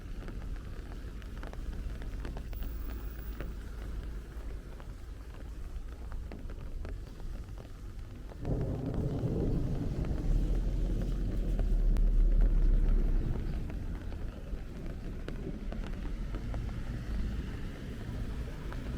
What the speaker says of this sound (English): that is the third rumble of thunder we've heard